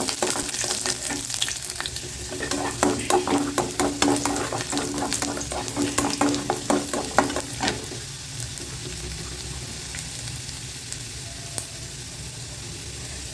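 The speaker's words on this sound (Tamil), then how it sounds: "அடுத்து பூண்டு போட்டுடலாம். இந்த சட்னி வதக்கிற நேரம் தான்." Garlic and chillies sauté in hot oil for a spicy kara chutney, with a steady close sizzle and brisk rhythmic stirring scrapes for about eight seconds before the frying settles into a calmer, continuous hiss.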